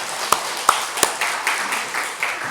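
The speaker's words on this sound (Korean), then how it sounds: "하나님께 영광의 박수 돌려드리겠습니다." Church congregation gathered for a New Year's Day worship service gives a short burst of applause, a few sharp claps up front followed by softer, rhythmic clapping that settles into a steady patter in a reverberant sanctuary.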